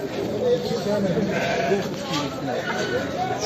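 Sheep bleat repeatedly amid a busy livestock market in Kadirli, Turkey, with people talking nearby throughout.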